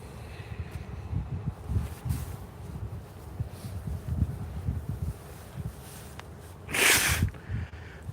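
Wind buffets a microphone outdoors in low, rumbling gusts that rise and fall throughout, with a brief louder rushing burst near the end and no talking.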